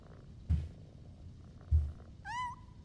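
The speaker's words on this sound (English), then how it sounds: "Some kitty purrs." A cat purrs in two short, low, close bursts, followed by a brief rising meow-like chirp near the end, with quiet background otherwise.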